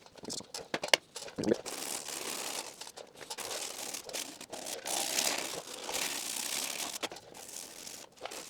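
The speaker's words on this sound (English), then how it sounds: "now I'm gonna hit this with 180 grit" Dry 180 grit sandpaper worked over small surface rust spots on a car body panel, giving close, scratchy crinkling and scraping with irregular bursts and a few sharp handling knocks, continuing for several seconds.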